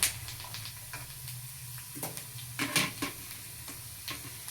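Cut green chillies hiss and sizzle as they fry in hot oil for poha chivda, a steady broadband spit with frequent short crackling bursts throughout, with no voices.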